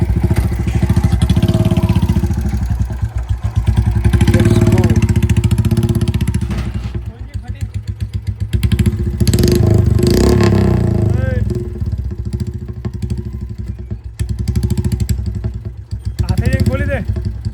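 A Bullet motorcycle engine thumps and revs loudly and close by as the bike is pushed indoors with strain, the throttle rising and falling, with brief voices partway through.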